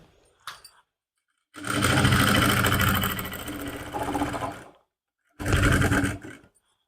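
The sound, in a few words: sewing machine stitching a suit lining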